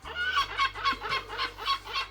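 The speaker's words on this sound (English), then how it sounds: "It's just that these seagulls must be lost." Gulls calling inland near a canal in Trentham, a rhythmic run of repeated squawking cries at moderate distance over a low steady hum.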